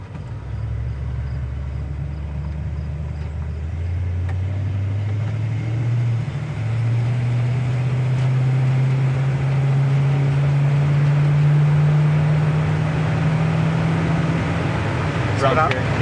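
A 1957 Chevrolet Bel Air cruising at about 60 mph, its engine a steady low drone that rises slowly in pitch as the car gathers speed, with broad road and wind noise throughout.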